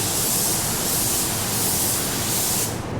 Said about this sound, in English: right now I'm just gonna take my spray gun and flatten it out